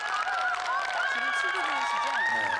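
Large audience at a Mr. Korea bodybuilding contest cheering and applauding in a steady, continuous wash of noise, heard at a distance with overlapping voices throughout.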